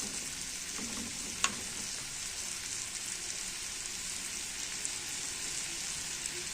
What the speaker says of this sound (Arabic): خلاص كده حمرناها بقى مع القرن الفلفل مع التوابل بتاعتها